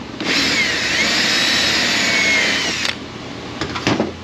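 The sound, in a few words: power drill drilling into HVAC box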